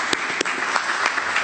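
Short burst of applause from an audience at a New York City mayoral press event, sharp separate claps standing out over a steady patter, fairly close.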